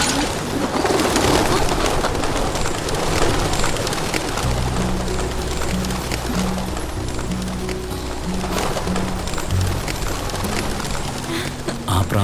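Pigeons coo steadily in a busy outdoor scene, with a rustle of wings as they take off, while a low, droning musical tone enters partway through and carries on beneath the birds.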